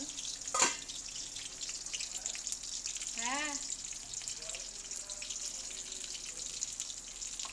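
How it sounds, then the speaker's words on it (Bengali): Hilsa fish heads frying in a pan give a steady, fairly quiet sizzling hiss throughout, with one sharp knock near the start and a few faint chirping sounds in the background. "কালকে ইলিশের মাথাগুলো ভেজে রেখে দিয়েছি আর একবার আজকে একটু ভেজে নিচ্ছি"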